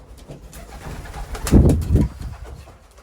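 Racing pigeons coo softly nearby, with a louder burst of throaty cooing in the middle before it fades back down.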